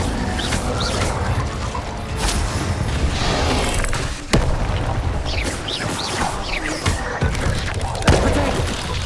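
An Incendio fire spell in Hogwarts Legacy whooshes and bursts amid busy combat, with sharp cracking impacts and thuds punctuating a rumbling background.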